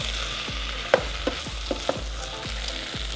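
Butternut squash browns in an Instant Pot with a steady close sizzle, while a utensil scrapes and taps the inner pot several times in an uneven stirring rhythm.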